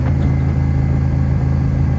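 A motorcycle engine drones steadily and loudly throughout while being ridden, a constant mid-pitched hum with slight wind rush and no other sounds.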